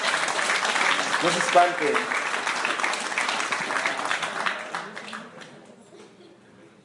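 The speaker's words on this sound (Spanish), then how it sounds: "Denle un aplauso a Cristo." A church congregation breaks into applause, a dense wash of clapping that fades out over several seconds, with someone speaking briefly over it.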